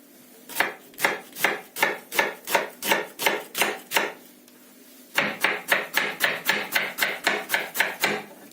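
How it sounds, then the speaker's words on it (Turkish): Rapid, even knife chops through an onion on a cutting board, about twenty crisp strokes in two runs separated by a brief pause, close and clear. "Şimdi küçük küçük kuşbaşı doğrayacağım"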